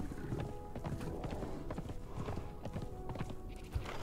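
Horse hooves clip-clop steadily beneath a rider in the survival video game Conan Exiles, a busy run of close, even hoofbeats over a constant backdrop of game ambience.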